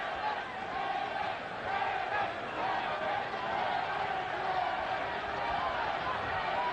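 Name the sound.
boxing crowd chanting Lennox for Lennox Lewis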